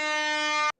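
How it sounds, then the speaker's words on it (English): A loud, sustained air horn blast, bright and brassy, holding steady for most of a second before cutting off sharply. "every time an indicator comes on, I'm just gonna play the air horn"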